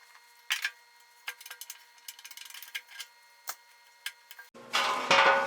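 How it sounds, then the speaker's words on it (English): A pop rivet tool works through seat back padding on a Triumph Spitfire Mk2/3 seat during restoration, giving sharp close clicks and snaps in an irregular series, followed by a louder rustling burst near the end. "the instructions have you pop riveting from the seat side, the interior of the seat side, down through"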